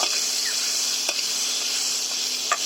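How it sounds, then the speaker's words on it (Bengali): Cauliflower florets with turmeric fry in hot oil in a pan until browned, giving a steady, even sizzle broken by a couple of sharp stirring clicks. "ফুলকপিগুলো দিয়ে দেব দিয়ে লাল লাল করে ভেজে নিতে হবে"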